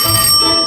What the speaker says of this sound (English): I can hear beautiful bells.